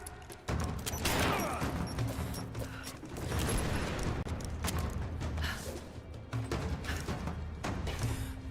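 Rise of the Tomb Raider gameplay fills the scene with sustained, loud gunfire and a heavy blast from a grenade, the dense shooting and explosive rumble continuing throughout with brief breaks.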